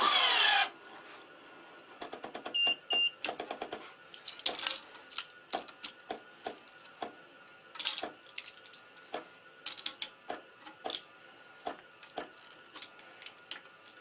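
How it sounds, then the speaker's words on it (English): Sharp clicks and small knocks as a flying clamp is shifted along the strings while stringing a tennis racquet, sounded in an irregular run of close, quiet taps and ratchety snaps. "The only thing I'm doing here is moving the clamp as close as I can get it"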